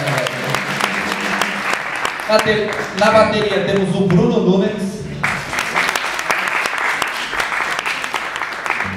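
A live audience applauds as rock band members are introduced one by one at a 2011 show; steady clapping runs throughout beneath an announcer's voice speaking over it.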